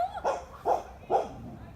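A dog barks three times in quick succession outdoors on a green rural road after rain, each bark loud and close with short gaps between.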